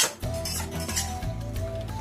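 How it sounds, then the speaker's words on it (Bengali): A pot lid lifted off a pan of alu posto cooking on the stove, close metallic clinks and a scrape of lid against pot, with faint background clatter. "ঢাকনাটা খুলে দিলাম"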